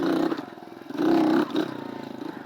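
A motorcycle engine drones steadily up close, rising and falling with revs, with rushing wind and rattling noise over it.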